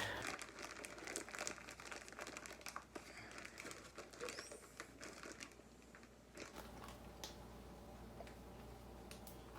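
Soft, steady crinkling of a plastic bag being handled as cheese is put into it, with scattered small crackles and ticks throughout.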